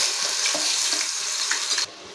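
Onion, ginger and garlic paste hits hot oil for a gongura chicken curry, producing a loud, close, hissing sizzle that runs evenly and then drops off sharply near the end.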